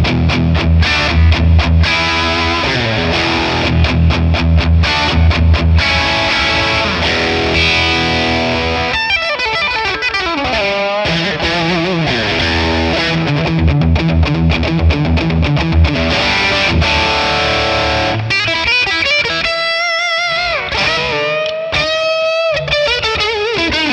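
A Telecaster played through a Friedman PLEX amp capture on the fat setting gives a loud, continuously distorted electric guitar, with chords and riffs running through to single-note lines near the end, alone without talk.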